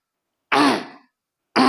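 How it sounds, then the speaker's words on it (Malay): A man clears his throat once, a short, close, rough rasp, followed after a brief silence by the start of a second clearing. "Biu berdehem-dehem."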